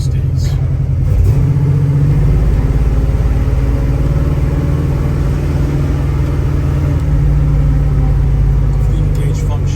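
A 1972 Chevrolet Nova with a 427 engine on the road gives off a steady, deep rumble with a constant low drone and no sharp revving.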